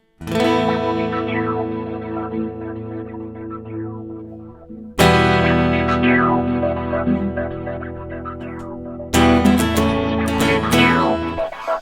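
Three loud synth chords played through a gate sequencer, each struck and sustained with a choppy, pulsing rhythmic gating effect, bright and layered with echo.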